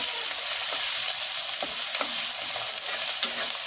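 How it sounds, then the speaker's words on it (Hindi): Green chillies fry in hot oil for a bhindi masala, a close, steady crackling sizzle broken by a few sharp spoon scrapes and taps as they are stirred, with no voices. "फिर डाल देंगे मिर्ची। थोड़ा सा भून देंगे।"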